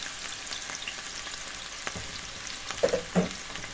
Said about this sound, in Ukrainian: І обсмажую трішечки.